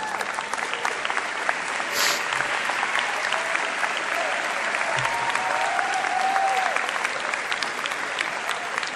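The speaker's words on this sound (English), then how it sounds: "they definitely deserve that applause" A commencement crowd at Edsel Ford applauds faculty and staff standing in the audience, with dense, even clapping from many people held at a constant level across the whole stretch, and one brief higher squeak near the start.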